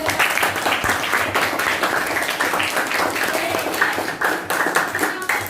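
A class of students claps for a classmate during a lesson, a sustained burst of hand clapping mixed with chatter and voices.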